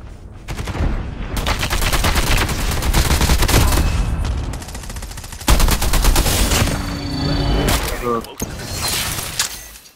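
Rapid bursts of gunfire in Call of Duty Mobile rattle almost continuously, loud and close, with brief pauses between volleys and a few sharp impacts.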